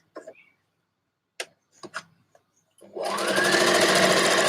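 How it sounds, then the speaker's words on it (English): A few soft handling clicks and taps come first, then a sewing machine starts up and runs steadily and loudly up close, stitching a dress sleeve. "And you continue sewing the sleeve out."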